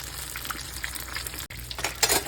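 Thick-cut pork chops frying in hot oil for katsu, with a fairly loud, continuous sizzle and bubbling, a brief dropout partway through, and a louder burst of spattering near the end.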